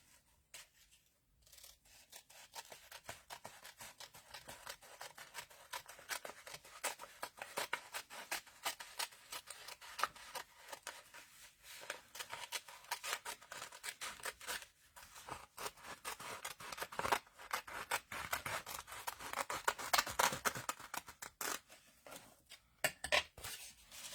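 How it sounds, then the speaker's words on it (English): Scissors steadily snip and slide through paper while trimming pages for a mermaid journal, a continuous close run of crisp cutting and rustling strokes with no talking. "And I'm going to trim this right along here."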